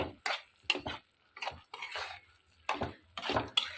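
Close, loud scraping of a metal spoon through garlic chicken gravy in a pan, about seven separate stirring strokes with short pauses between them.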